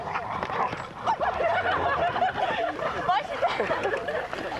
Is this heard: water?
no